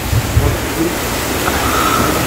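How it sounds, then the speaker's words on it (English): Rain starting to fall during a safari drive at Kolara Gate in Tadoba tiger reserve, a steady broadband hiss of rainfall with faint low rumbles underneath, continuous and moderately loud. "it has started raining"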